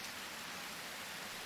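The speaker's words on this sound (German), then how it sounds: "Mal sehen, ob es jetzt 3 Tage regnet." Steady rain in the farming video game Harvest Moon, a continuous even hiss of rainfall with no pauses or voices.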